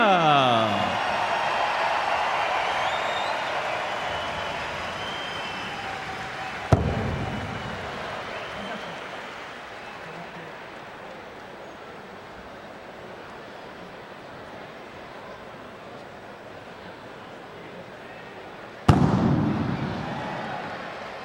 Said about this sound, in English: A little pyrotechnic action going on here as we understand that there will be fireworks